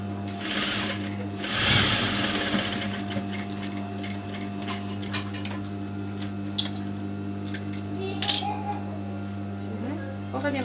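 Domestic sewing machine stitching lace trim onto fabric, a steady continuous mechanical whir with brief louder bursts and a few small clicks, heard up close for the full stretch.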